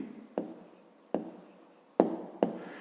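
A pen scratching on paper while working a fifth-grade math exercise: four close, crisp strokes, each starting sharply and trailing off, separated by short quiet gaps.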